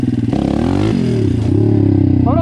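A pit bike with a Daytona 190 engine accelerates in second gear, its loud, close engine note rising and shifting in pitch with a rough, buzzing tone throughout.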